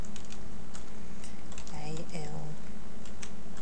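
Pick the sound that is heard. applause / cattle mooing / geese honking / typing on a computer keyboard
typing on a computer keyboard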